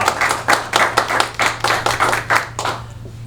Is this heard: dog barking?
no